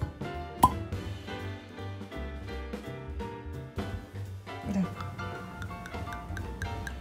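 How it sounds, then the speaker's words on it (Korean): A single bright pop of a cork pulled from a wine bottle rings out near the start, over steady jazzy music that plays throughout. "코르크를 딸 때 퐁 소리"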